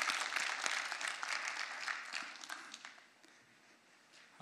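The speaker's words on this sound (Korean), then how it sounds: "하나님께 영광의 박수 올려드리겠습니다." Congregation clapping during a Sunday evening church worship service, a moderate burst of applause that thins out and quiets in the second half, with scattered claps near the end.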